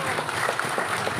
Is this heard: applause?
yes